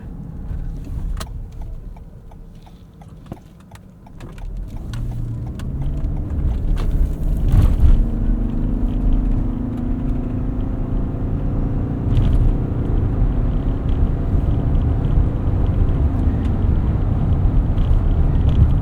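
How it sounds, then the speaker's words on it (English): Inside a 2021 Toyota Highlander Hybrid on the road, a low steady rumble of tires and powertrain swells as the SUV picks up speed, with faint clicks early on and no talking. "There's a little bit more noise and vibration from this than what we see in some other hybrids out there"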